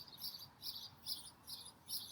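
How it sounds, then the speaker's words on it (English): Many birds chirp and sing outside near a front porch in the morning, with bright repeated tweets coming in regular bursts about every half second and no talking. "There are a lot of birds singing right now"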